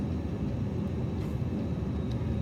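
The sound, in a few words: airplane engine during landing approach in a flight simulator video game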